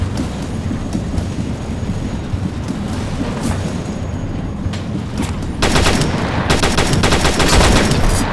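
Gunfire in a multiplayer train game, at first scattered shots over a steady train rumble, then dense rapid machine-gun bursts that grow louder near the end.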